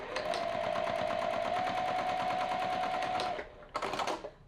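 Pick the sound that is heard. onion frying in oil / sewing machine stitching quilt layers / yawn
sewing machine stitching quilt layers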